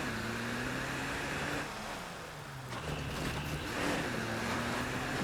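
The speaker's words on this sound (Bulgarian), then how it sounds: "Как се чува тази кола." Car engine in the video game State of Decay 2, a faint steady hum with a low droning tone that shifts slightly in pitch, heard alone with no talk.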